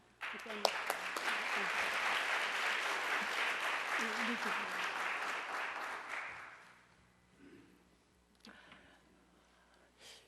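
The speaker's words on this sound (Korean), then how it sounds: "큰 박수로 환영해 주시면 감사하겠습니다" A crowd claps loudly and steadily for several seconds at a church service, then the applause fades out, leaving quiet room noise with a few stray sounds.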